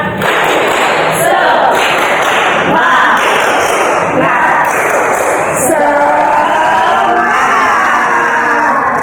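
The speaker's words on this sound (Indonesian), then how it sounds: "Biar semangat, kita tepuk semangat dulu ya." A classroom of students doing the tepuk semangat clapping chant, a loud crowd of voices chanting and shouting together with rhythmic clapping and thumps throughout.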